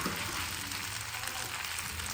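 Kolson spaghetti noodles being stirred in a pan, a soft continuous sizzle and scraping hiss heard close up and alone, fairly quiet and even throughout.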